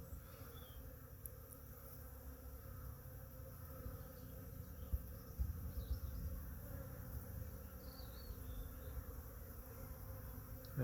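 Honeybees buzzing around the hive entrance during a late-February spring inspection, a soft, steady, continuous swarm hum with no talking.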